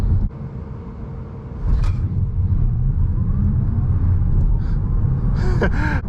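A Tesla Model 3 Performance accelerates hard, a low road rumble and whine swelling steadily inside the cabin, with a brief breathy exclamation near the end.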